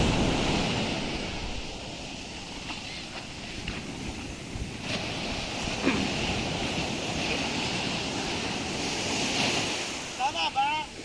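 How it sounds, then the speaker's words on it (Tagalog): Big ocean waves surge and crash against the shore in steady broadband roar, with strong wind buffeting the microphone and a few brief voices near the end. "Ang laki ng alon din eh."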